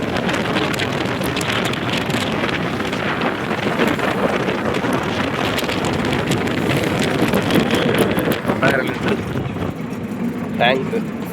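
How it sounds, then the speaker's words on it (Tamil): Strong wind buffets steadily while riding in an open Eicher vehicle through a village on a sunny day, a loud continuous roar close to the microphone, with a voice talking over it. "காற்று நல்லா அடிக்குது வண்டி போகிறதுனால."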